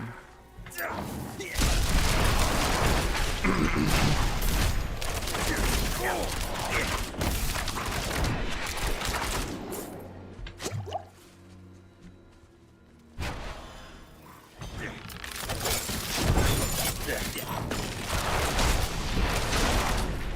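Barrage skill attacks from the Rogue class in Diablo IV fire as dense, loud bursts of impacts and booms, mixed with thuds and game effects, with a brief quieter lull in the middle before the rapid attacks resume.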